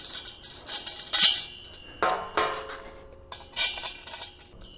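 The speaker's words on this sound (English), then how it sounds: "And I'll put four bolts into the legs." Metal bolts and parts clinking and clattering while a wok cart is assembled by hand, a few sharp close metallic clinks and knocks spread through the quiet, with no talking.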